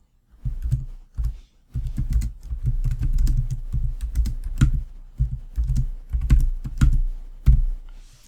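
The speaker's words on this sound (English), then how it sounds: "So just type your alt text there." Rapid bursts of clicks on a computer keyboard, close and fairly crisp, arriving in uneven clusters with brief pauses between runs of keystrokes.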